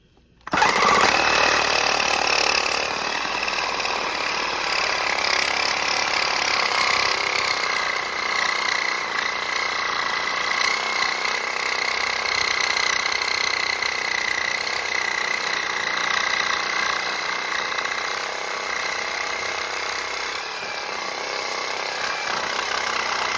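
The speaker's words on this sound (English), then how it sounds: "I'm going to cut this pipe." A power saw cuts through a cast iron drain pipe at a lead and oakum shower drain joint, producing a continuous, harsh grinding roar that holds steady at close range throughout.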